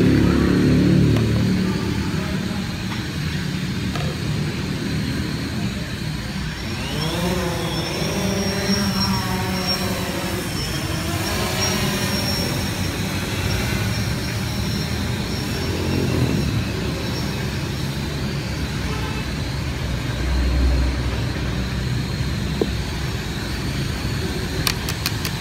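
A DJI Phantom 3 quadcopter drone hovers and flies during a return-to-home test, its steady whine running through the whole stretch with a clear passing swell in the middle, carried over constant outdoor background noise.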